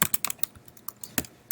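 Computer keyboard keys tap in quick, close, sharp clicks, clustered in short uneven bursts with brief pauses, clear and alone.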